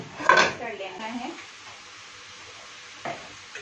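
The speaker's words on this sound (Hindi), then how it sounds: "ये हमारा देखिए कीमा और प्याज मसाले अच्छे तरीके से हम लोगों ने इसमें मिक्स कर लेना है।" Minced meat, onion and spices for samosa filling are stirred in a pan, with a clatter of a spoon against metal at the start and another near the end over a faint, low sizzle.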